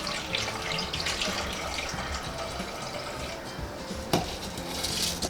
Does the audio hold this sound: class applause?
no